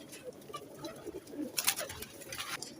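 Pigeons in a loft kept for breeding coo softly and repeatedly at a moderate distance, with low murmuring and faint background noise throughout.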